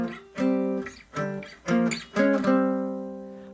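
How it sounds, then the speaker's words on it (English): An inverted three-note power chord, doubled on the fifth with a single root, struck four times in a steady pulse, the final chord sustaining and slowly decaying, with no voices. "if we turn this into a 3-note power chord inverted"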